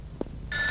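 Telephone bell rings loudly in a quiet room, a steady bright electronic trill kicking in after a brief soft knock and continuing to the end.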